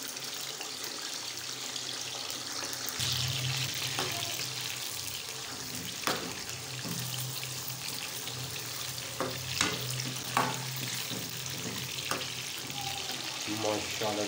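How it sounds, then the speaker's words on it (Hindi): Goat tripe and liver frying in oil in a wok: a steady sizzle that starts a few seconds in, with occasional clinks and stirring scrapes, close and fairly loud, and no talking. "कढ़ाई में तेल डाल के पहले हमने इसको भूनना है"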